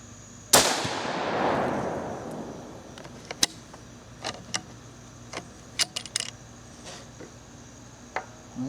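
A rifle shot from a sporterized Mauser 98 chambered in 260 Remington, firing a 129 grain SST bullet at a 100-yard target, cracks once loudly and rolls away in a long decaying echo, followed by faint scattered clicks.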